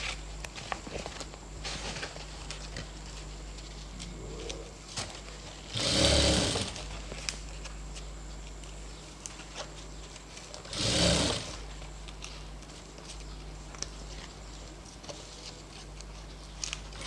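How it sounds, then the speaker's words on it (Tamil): A sewing machine runs a seam along the folded gusset of a jute cloth bag, giving a steady close whirr with two short, louder bursts of stitching partway through. "இன்னொரு சைடு ஜூட் கிளாத்தில் நம்ம கெசட்டை வந்து மடித்து தையல் ஓட்டுறோம்."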